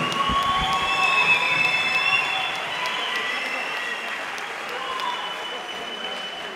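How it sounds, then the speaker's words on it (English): A crowd at a Fight UK boxing event applauds loudly after a bout. Dense clapping and cheering rise at first and then ease to a steadier, slightly softer round of applause. "Let's have a round of applause for both warriors"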